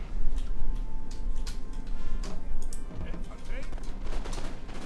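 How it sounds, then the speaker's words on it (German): Infantry musket volleys crackle in Napoleon: Total War, with repeated sharp reports and scattered shots spread over a continuous battle din, fairly loud throughout. "Da schießen meine Infanteristen in die Miliz in den Rücken."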